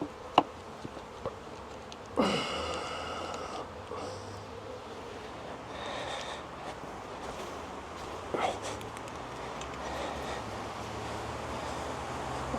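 F1 Buckfast honey bees buzz steadily around an open hive, a continuous close drone with individual bees flitting louder past the microphone now and then, no voices.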